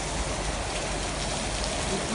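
Heavy rainfall pours steadily in cold weather, a dense, continuous hiss filling the whole stretch at close range with no gaps, loud and unbroken, with no voices over it.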